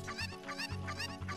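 A chicken in the Ocarina of Time video game clucks in quick, repeated squawky bursts, close and clear for about a second and a half.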